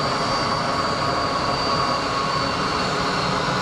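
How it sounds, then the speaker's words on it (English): Jet engines of a Swiss Airbus A321 spool up for the takeoff roll at Geneva Airport, a steady, broad, loud roar with a constant high whine that holds throughout, no voices. "Stab on the throttle from the Swiss 321 to get rolling"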